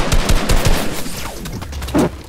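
Gunfire in Fortnite: rapid bursts of close shots crack in quick succession, then thin out into scattered fainter reports with one more sharp shot near the end.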